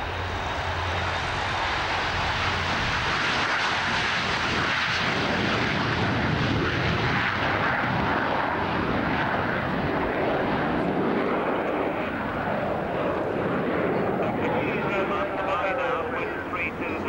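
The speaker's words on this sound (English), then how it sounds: "Buccaneer on takeoff." A Blackburn Buccaneer jet takes off at the 1989 RAF Chivenor airshow, its engine roar a loud, steady broadband rumble that holds at full strength for the whole stretch.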